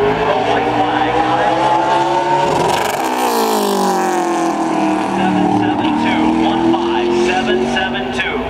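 Kyle Busch's number 51 race car on a SpeedFest qualifying lap, its engine roaring loud and close under a commentator's voice. The pitch drops sharply partway through, then climbs again as the car pulls away.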